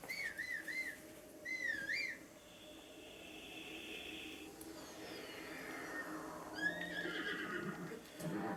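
A horse whinnies in the video game Breath of the Wild in short, high, wavering bursts, separated by sustained whistle-like tones and a soft, low background.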